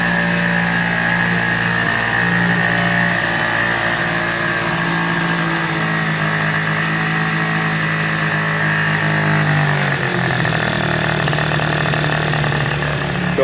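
A 50cc Blue Dino engine with a fuel circuit fault in the carburetor idles steadily and close, a buzzy continuous drone whose pitch sags and wavers near the end as it starts to falter.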